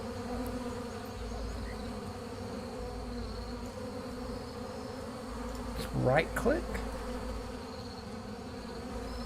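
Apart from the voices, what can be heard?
bees buzzing in the video game Adrullan Online Adventures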